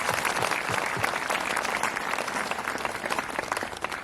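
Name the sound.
applause thanking the donors at Easter celebration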